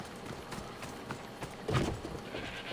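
Horse hooves in Assassin's Creed Odyssey, a series of soft clip-clop steps at a walking pace over a steady game ambience, with one louder thud midway.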